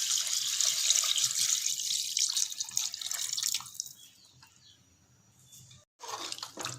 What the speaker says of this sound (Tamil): இப்போ மட்டன் வேக வச்ச தண்ணி இதோட ஆட் பண்ணிக்கலாம்.